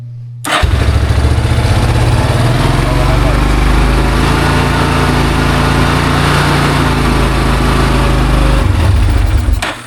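A Yamaha Terrapro four-wheeler ATV with a PTO starts up and then runs steadily. Its loud, close engine hums evenly from start to finish.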